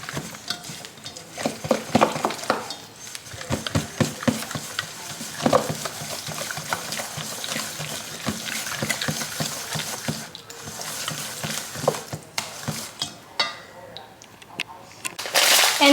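Cookie batter being mixed in a bowl gives repeated, uneven scraping and stirring strokes close by for the whole stretch, with a louder burst of mixing at the end.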